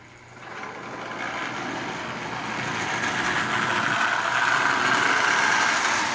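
Marx 994 toy train locomotive running on a rail layout: a steady mechanical whirring rumble that builds after a quiet start and holds loud and continuous, with no talk.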